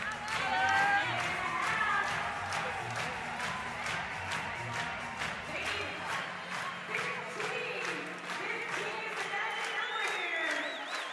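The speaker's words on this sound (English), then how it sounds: "the entire arena erupting in a clap" An arena crowd at a CrossFit Europe Semifinal team heat claps in a steady rhythmic beat with scattered cheers, heard under a commentator's continuous talk.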